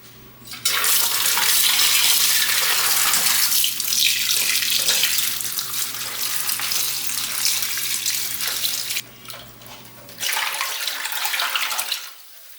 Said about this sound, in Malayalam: ഇതൊന്ന് കഴുകിയെടുക്കാം ഇനി